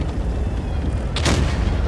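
In a tank video game, one loud, booming rifled cannon blast bursts out over a steady low rumble of engine noise, sharp at the onset and then briefly ringing.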